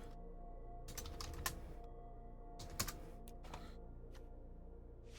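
Someone types on a computer keyboard in a quiet room, the close keys clicking in quick uneven bursts with short pauses between.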